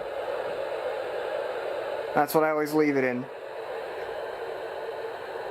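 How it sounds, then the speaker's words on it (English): A Sharper Image sleep machine plays a steady, even hiss of white noise throughout, with a brief spoken remark partway through. "My personal favorite is white noise."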